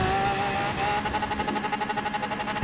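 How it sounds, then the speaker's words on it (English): A V10 car engine in the video game Forza Horizon 4 revs and drones while off-roading with a pulsing, uneven rumble, steady and fairly close, with no talking. "I think this has got a V10 in it and it really sounds awful when you're off-roading"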